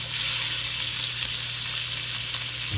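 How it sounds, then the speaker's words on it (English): Beef frying in hot oil in a pan for a fast stir fry, giving a steady, loud, close sizzle with a constant crackling hiss throughout and no talking. "hear that sizzle? You're going to add your meat."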